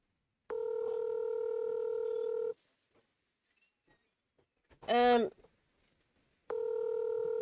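Telephone tones sound during a call attempt: a long steady tone, a short warbling burst midway, then the steady tone returns, close and clear against near silence.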